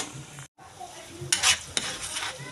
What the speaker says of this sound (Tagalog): Magigisa na tayo ng sibuyas.